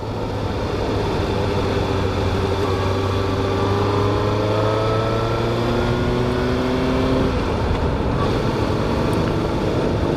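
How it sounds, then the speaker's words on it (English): A Harley-Davidson motorcycle passes in Wisconsin, a steady engine drone with a gliding, shifting pitch that rises and then fades, under constant road and wind roar. "Yeah, just a guy on a Harley."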